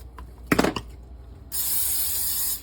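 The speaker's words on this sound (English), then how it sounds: "now you want to spray your bowl" After a brief rattling clatter, a short close spray of cooking spray into a bowl hisses steadily for about a second, then stops.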